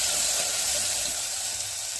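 Potato frying in hot oil for a thin cabbage curry, with a steady, dense hiss of sizzling that fades slightly toward the end, no talking.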